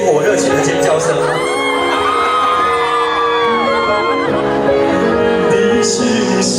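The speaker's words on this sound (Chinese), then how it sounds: "可以给这些烟火热情的尖叫声吗？" Spectators at an outdoor Christmas concert in Houlong scream and cheer loudly and continuously, high whoops and shouts rising over a sustained crowd roar, with sung or amplified voices blended in.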